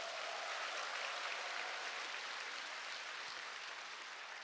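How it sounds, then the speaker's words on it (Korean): Audience at a Korean motivational sales seminar breaking into sustained applause, a dense and even wash of clapping heard from within the crowd, steady without a break. "큰 박수를 보내주시기 바랍니다"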